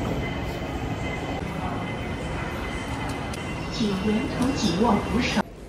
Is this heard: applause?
no